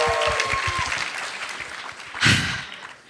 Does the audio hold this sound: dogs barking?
no